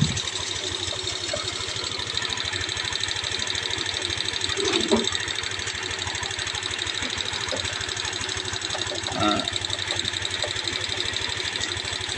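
An overheating car engine idles while warming up so the radiator and thermostat can be checked. It gives a steady, continuous mechanical hum and a fast rhythmic pulse throughout, with a couple of faint clinks.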